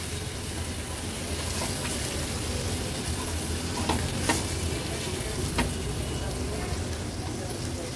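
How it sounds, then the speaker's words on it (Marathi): Pomfret fish pieces frying in ground masala paste on low heat, a steady dense sizzle throughout with a few faint scraping stirs. "व्यवस्थित वाटणामध्ये थोडेसे आपल्याला ना हे परतून घ्यायचे"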